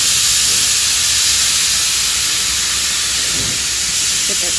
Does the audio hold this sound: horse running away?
no